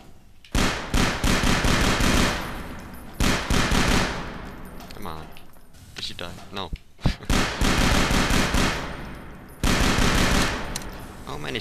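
Rapid automatic gunfire in the Half-Life 2 mod 1187 comes in long loud bursts, with shorter pauses and scattered single shots between them while a voice talks.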